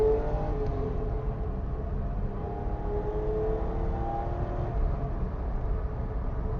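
A BMW Alpina E21 C1 engine pulls hard through a steady acceleration, its tone rising smoothly in a continuous drone heard from inside or close by. It is moderately quiet, with no speech.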